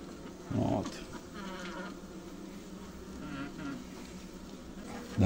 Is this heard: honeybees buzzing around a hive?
yes